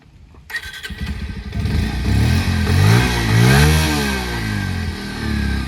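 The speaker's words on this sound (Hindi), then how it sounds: "अब मैं बाइक को एक बार स्टार्ट करके चला के दिखा देता हूँ आपको।" A Bajaj Pulsar 125 Carbon Edition motorcycle (2023 model, 125cc) fires up after a brief silence, settles into a close, loud idle, then climbs through several rising and falling revs with no talking.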